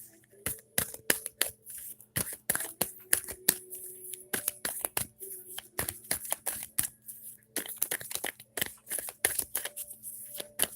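Tarot cards being shuffled by hand, a close, crisp run of rapid riffling and slapping bursts in uneven rhythm, continuing steadily throughout without speech.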